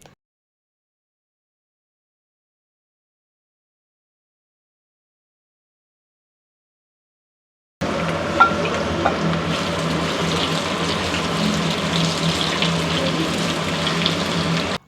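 Cut potatoes go into hot oil in a wide pan with mustard seeds and curry leaves. After a long silence the frying starts up as a steady, close hiss and bubbling that continues to the end, with no speech.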